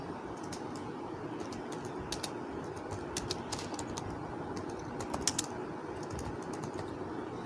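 Keys tapped on a computer keyboard while a page title is entered, a steady run of light irregular clicks over a soft, constant room background with no talking.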